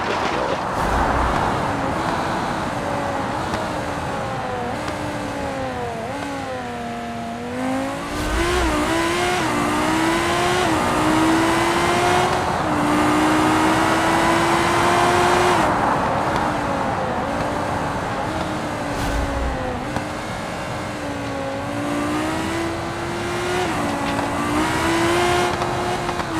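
A Civetta LeGran car in BeamNG, running without nitrous, drives with a loud, close engine drone that rises and falls through gear shifts and revs over nearly half a minute.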